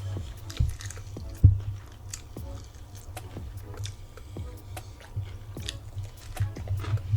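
Close, steady chewing of seasoned, crunchy fried chicken wings, with soft crunches and wet mouth sounds repeating through the stretch and a sharper bite now and then; no talking over it.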